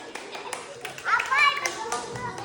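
Children in a classroom clap their hands in a short, light burst, with a teacher's voice and kids' chatter mixed in around the claps.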